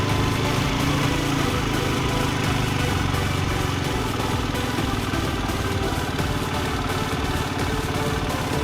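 A 125cc motorcycle engine held at low throttle, a steady close buzzing putter that stays even and unbroken throughout, with no one speaking.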